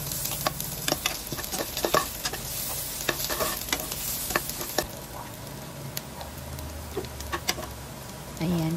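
Pork marinated in dried fish and pineapple juice hits a pan of sautéed garlic and onion with a crackling sizzle, with sharp spatters and stirring clicks that gradually settle into a quieter hiss.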